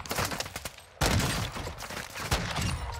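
Rapid video game gunfire from a first-person shooter match with snipers, mortars and riot shields, dense repeated shots with a sharp loud burst at one second and another near two and a half seconds, close and continuous.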